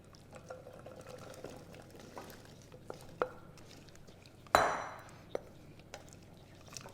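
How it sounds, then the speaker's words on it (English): Chopped potato and parsnip tipped into a simmering pot of Hungarian beef goulash, giving a sudden splash and plop partway through amid quiet kitchen clatter and faint liquid sounds, with no talking. "So now I want to add the potato and the parsnip."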